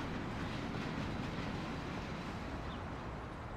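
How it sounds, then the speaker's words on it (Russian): A train rolling past in the video game Mafia: The City of Lost Heaven, a loud, steady low rumble of wheels on rails with faint clickety-clack, continuous throughout and without speech. "Поезд."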